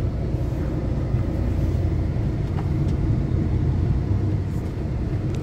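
A Western Express truck being driven on the road on its way to a wheel alignment: a steady, loud low engine and road rumble from inside the cab, continuous throughout with no talking.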